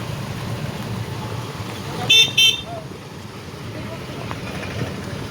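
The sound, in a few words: road traffic jam with car horns honking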